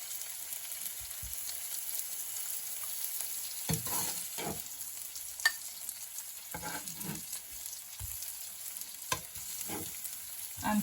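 Garlic butter mushrooms sizzle softly in a pan as they are lifted out, with a quiet continuous frying hiss broken by several scraping and tapping utensil knocks, and no voices.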